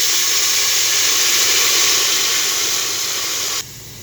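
Water hits frying onions in a pan, setting off a loud, steady steam hiss and sizzle that holds for a few seconds, then drops abruptly to a quieter simmer.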